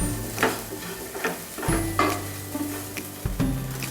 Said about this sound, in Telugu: కొంచెం ఫ్లేమ్ పెంచుకొని 1 నిమిషం పాటు వేయించుకోవాలి.